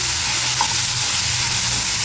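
Cumin and tamarind roast in a pan, making a loud, continuous close sizzle with a steady hiss and faint stirring, no talk.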